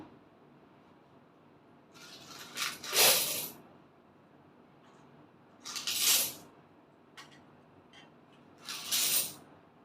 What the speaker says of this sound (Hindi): इन कॉइन्स को मैं एक टोकरी में मिक्स कर देती हूँ।